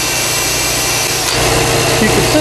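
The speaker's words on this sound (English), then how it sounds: "I'm just lightly sanding them." Steady abrasive rubbing and scraping, close and fairly loud, continues throughout as metal washers are lightly sanded by hand.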